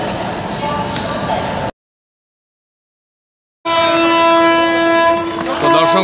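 At Shalimar station the Samarsata Express stands ready to depart, with loud rumbling station and train noise, a stretch of total silence, and then a sustained horn-like tone over continuing rail noise.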